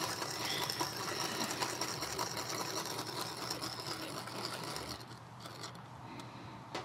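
A vinaigrette with freshly cracked black pepper being mixed up, giving a steady, close mechanical whirring rattle that runs throughout and thins out over the last couple of seconds.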